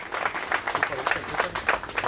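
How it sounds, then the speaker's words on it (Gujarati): An audience at a civic ceremony applauds, a short burst of steady clapping mixed with voices talking over it. "આનું આપણે બધા જોરદાર તાળીઓથી સ્વાગત કરવું જોઈએ"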